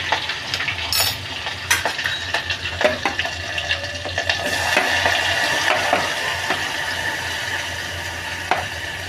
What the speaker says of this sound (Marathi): कांदा थोडासा सवतळला